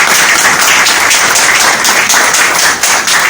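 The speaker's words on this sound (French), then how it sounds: "Il mérite nos applaudissements" Dense, steady applause from an audience at a women's month closing event held by the Parti Le Transformateur, loud and continuous throughout with no voices standing out.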